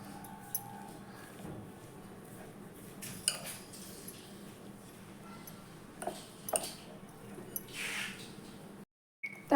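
A spoon stirs besan with turmeric, coriander-cumin powder and fresh coriander leaves in a bowl, making a steady close-up scraping and swishing with scattered light clinks against the bowl, no voices, and a brief silent gap near the end.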